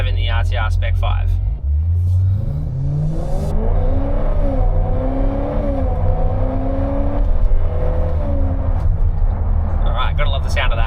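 A supercharged Ford Mustang RTR Spec 5 accelerates from inside the cabin, its engine note climbing through rising pitch sweeps under a steady road rumble, loud and continuous throughout.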